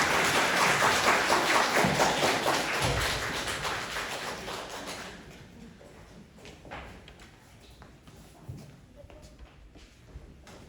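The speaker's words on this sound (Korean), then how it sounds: "박수." Applause at a church children's Sunday service, a broad wash of clapping for about five seconds that fades into scattered taps and room noise.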